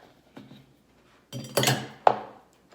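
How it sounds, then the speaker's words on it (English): Ice cubes tossed into an Old Fashioned cocktail glass: a soft clink, then a louder clattering rattle of cubes settling, and a final sharp knock, all close and alone. "And then you're gonna throw some ice in there."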